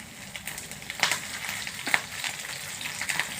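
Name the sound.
cumin, dal and green chillies frying in hot oil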